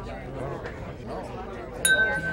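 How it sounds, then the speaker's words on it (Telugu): Glasses clink once in a cheers toast, a bright short ring over steady conversation. "స్టార్ట్ చేసే ముందు చీర్స్ కొట్టుకుని స్టార్ట్ చేద్దాం."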